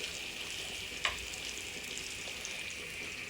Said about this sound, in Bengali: গরুর ভুড়ি তো বলে অনেকে, এটা আমি ভাজি করছি।